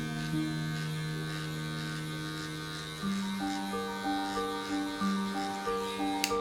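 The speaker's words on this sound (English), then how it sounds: "We are opening our clipper all the way open." Electric hair clipper opened all the way during a mid fade haircut, a steady close buzz that shifts pitch partway through and then pulses in short repeated strokes.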